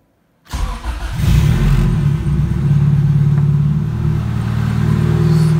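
A Honda Civic EG with a custom turbo kit, running on 93-octane pump gas, cranks briefly and fires up, settling into a loud, steady, low idle rumble close to the microphone.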